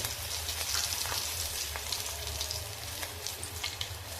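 Pieces of food sautéing in a pan with turmeric added, giving a steady close sizzle with faint scattered crackles and stirring clicks, no voices.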